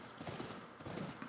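A horse in the Minecraft video game makes short clip-clop hoof sounds in quick succession, faint and close, with no talk.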